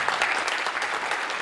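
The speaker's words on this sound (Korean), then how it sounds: "우리 부무장 되시는 권순웅 목사님께 감사의 박수를 드리겠습니다." A church congregation gives a brief round of applause of thanks to the pastor after a seminar sermon, a short, steady patter of clapping heard on its own.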